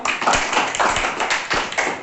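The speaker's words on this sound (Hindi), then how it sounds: "ताली बजाओ" Children in a classroom clap together after a correct answer in a number lesson, a close, loud burst of uneven hand claps with a few sharp separate slaps standing out.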